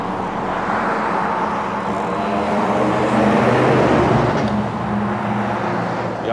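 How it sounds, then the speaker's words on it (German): Steady rush of passing cars on a narrow main road, heard from a bicycle being overtaken closely, a continuous loud traffic drone with swelling passes and no talk. "Und die Autos, da die Straße hier ziemlich eng ist, überholen auch nicht mit wirklich großem Abstand"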